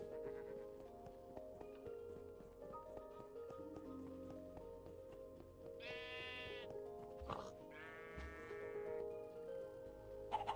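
Two wavering sheep bleats from the video game Minecraft, in the FTB Stone Block modpack, rise over a busy hum of game sounds and light tapping, spaced a couple of seconds apart.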